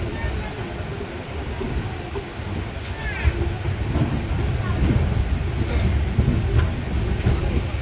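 The Shalimar–Puri Super Fast Express (22835) pulling out of Bankura station at night, a steady deep rumble and clatter of the rolling train from inside a coach, growing slightly louder as it gathers speed.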